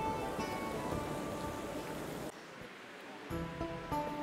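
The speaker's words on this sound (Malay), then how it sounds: "adanya pancuran air yang dipergunakan untuk berwudu dan ada 33 keran yang ada di sana" Water pouring from the taps of a mosque ablution fountain with 33 taps in Bursa, a steady splashing rush that abruptly drops quieter midway and then swells again.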